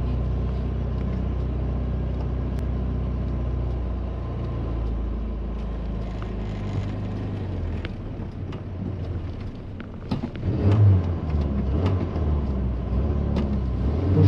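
A 1986 Citroën BX Sport with twin carburettors drones steadily from inside the cabin while driving, a low engine rumble with some wind noise that swells briefly louder near the end.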